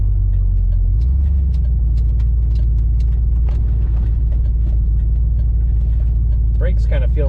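A 1992 Ford Mustang LX 5.0 convertible with an automatic transmission on a test drive, its engine a loud, steady low rumble that steps up in pitch after a second, with a voice speaking briefly near the end.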